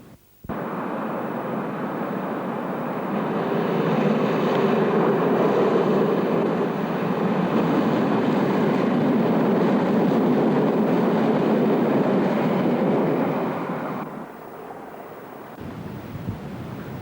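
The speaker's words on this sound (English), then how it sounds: "This diesel multiple unit is approaching Oxford to call there before going on to its eventual destination of Reading." A diesel multiple unit train approaching Oxford station, a steady broad rumble that builds and holds loud for several seconds, then drops off sharply near the end.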